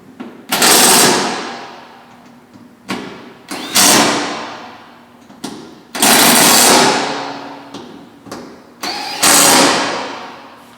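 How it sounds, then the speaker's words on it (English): Impact tool tightening bolts on Jeep JK tailgate skins, loud repeated bursts of rattling hammering, each lasting about a second with pauses between, close by and without talk. "I'm going to go ahead and have him tighten these up."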